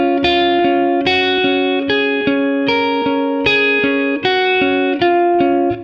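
An electric guitar run through effects picks a song's riff in standard tuning: a loud, bright, steady eighth-note pattern of repeated notes with reverb, played alone.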